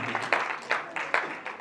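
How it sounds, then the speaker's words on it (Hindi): A small audience at a Hindi poetry recital (kavi sammelan) claps in brief, uneven bursts, the scattered handclaps fairly close and modest in volume. "चलो एक बार आप तालियां बजा दीजिएगा"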